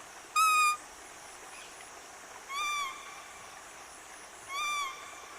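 A man in Pakke Tiger Reserve imitates a bird call, giving three sharp, whistled hoots spaced about two seconds apart, the first loudest, against faint steady night-forest background with no talk.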